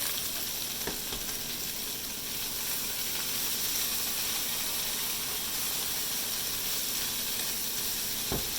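Sweet and sour stir fry sizzles and fries steadily in a hot pan, a continuous bright hiss with faint stirring scrapes, close and alone without talk.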